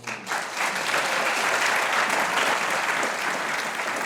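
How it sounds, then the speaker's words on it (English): Steady, dense audience applause fills the room at a high school graduation ceremony, honoring parents and family members; the sustained clapping stays loud and even throughout after a brief lead-in. "So round of applause for parents and family members."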